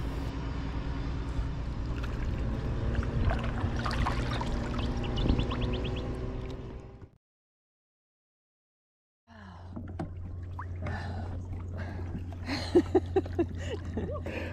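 A boat paddled around a lake at a regatta at Lake Yealering, with water sloshing and splashes against a steady low hum, cut by a silent gap before the splashing resumes.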